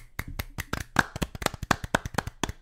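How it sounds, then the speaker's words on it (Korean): A few people clapping by hand on a Korean podcast to welcome a new member, sharp individual claps in an uneven, close, fairly quiet burst. "박수 한번 칠까요?"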